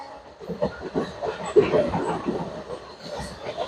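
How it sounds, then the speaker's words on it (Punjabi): A train rolls steadily across a bridge in rural Punjab, between Lohian Khas and Firozpur Cantt, with a rumbling, clattering sound that varies slightly in tone. "ਪੁਲ ਦੇ ਉੱਪਰ ਦੀ ਜਦੋਂ ਵੀ ਟ੍ਰੇਨ ਨਿਕਲਦੀ ਆ ਉਹਦੀ ਆਵਾਜ਼ ਥੋੜੀ ਜਿਹੀ ਵੱਖਰੀ ਹੁੰਦੀ ਆ"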